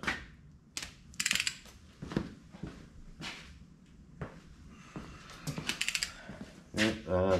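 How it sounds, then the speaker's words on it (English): A torque wrench tightens bolts to 20 foot pounds during a front pump seal replacement on a TH350 transmission, giving bursts of close ratcheting clicks and metallic clatter separated by short pauses. "I'm going to torque them up,"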